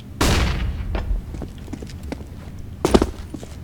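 A thrown flashbang pops in a tactical shooter game, one sharp close burst near the start and a second hit near the end, with soft footstep taps in between.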